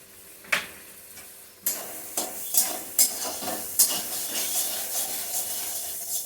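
Kashmiri chilli powder and spices stir-fried in a pan for a banana-flower curry: a steady close sizzle with repeated scraping strokes of a spoon against the pan, no voices.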